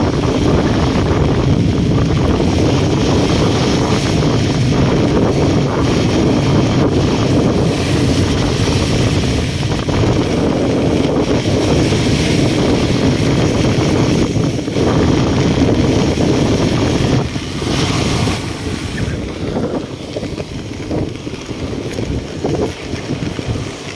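Strong wind blows steadily across open water with waves, roaring loudly into the microphone for the whole stretch, easing slightly toward the end.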